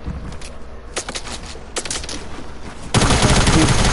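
Sharp, loud gunshots crack in separate bursts in Fortnite, then give way to a sustained, dense spray of automatic fire toward the end, with a little speech mixed in.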